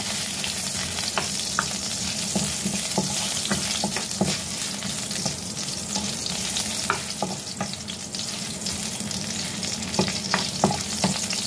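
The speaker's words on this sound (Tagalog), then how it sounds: "So, igisa na natin ang ating pinipit na luya." Crushed ginger sautéing in hot cooking oil in a pan, a steady bright sizzle with scattered spoon taps and stirring scrapes, close and continuous, no speech.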